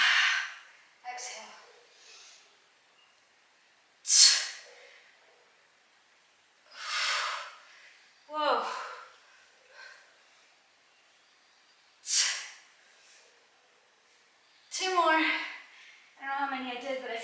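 Heavy exhaling breaths during deadlift exercise, a series of about nine sharp, close hissing exhales spaced a couple of seconds apart, some with a voiced grunt at the end.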